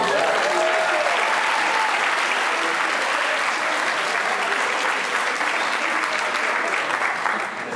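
Wedding reception guests applaud loudly and continuously, with dense clapping and some crowd cheering that fades slightly at the very end.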